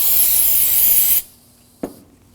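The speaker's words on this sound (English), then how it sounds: "We're gonna clean that off by using brake parts cleaner. Spray some on it" A burst of aerosol brake parts cleaner sprays loudly onto rear brake parts of a 2014-2020 Acura MDX, a steady hiss lasting over a second that cuts off abruptly, followed by a short second puff.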